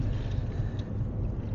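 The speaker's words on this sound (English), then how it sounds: "It's a little chilly because of some wind." Wind gusts outdoors on an overcast, chilly day, a short, steady low roar buffeting the microphone with no voices.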